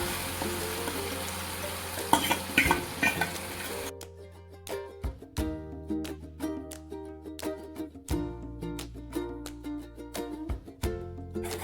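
Garlic and chilli paste frying in oil with asafoetida over a low flame, steady soft sizzling broken by scraping stirs and occasional sharp pops and clinks of a spoon against the pan.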